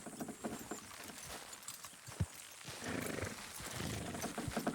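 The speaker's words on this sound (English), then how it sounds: "Horses will pull it clean down." Horses in the video game Red Dead Redemption 2 strain and clip-clop while pulling, quiet hoof thuds and scuffles with a few louder knocks over low game ambience.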